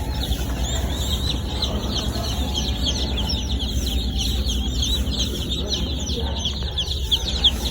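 Broiler chickens in a farm pen keep up a steady, dense chorus of clucks and peeping chatter over a constant low hum.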